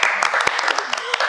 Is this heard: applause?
yes